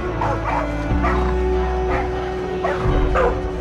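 A dog in the video game Far Cry 5 gives a string of sharp barks and yips, about five bursts spaced unevenly over a steady droning game background.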